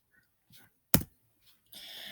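One sharp computer mouse click, close and crisp, standing out against near silence with a few faint soft rustles before and a brief hiss after.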